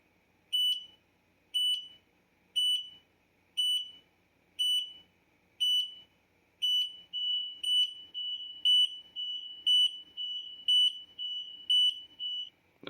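X-Sense carbon monoxide detectors sound a test alarm with loud, piercing beeps that repeat steadily about once a second, then merge into a near-continuous shrill tone.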